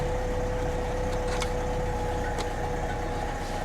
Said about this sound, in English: That engine just sounds a little rattly.